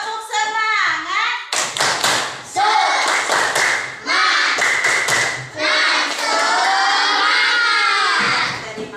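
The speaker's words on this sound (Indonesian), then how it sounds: "Masih. Silakan tepuk semangat." Schoolchildren in a classroom perform a patterned spirit clap, rhythmic bursts of claps and thumps mixed with loud chanting and shouting voices, energetic and close, with pauses between sections.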